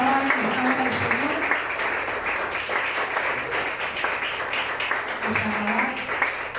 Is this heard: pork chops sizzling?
no